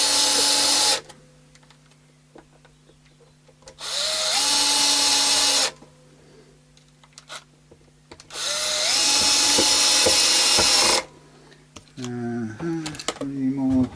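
A power drill whirs in three sustained bursts of a few seconds each, driving black pickguard screws into an Epiphone Moderne guitar during a refret and setup. A few quieter clicks and higher whines follow in a bench setting with no voices.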